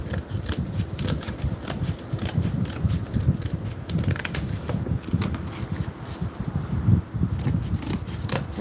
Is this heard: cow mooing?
no